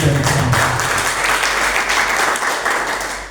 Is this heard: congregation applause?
yes